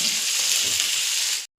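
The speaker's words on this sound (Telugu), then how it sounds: "కొంచెం వేగనివ్వాలి." Onions and potato pieces fry in a pan with a steady, close sizzle and hiss that cuts off abruptly near the end.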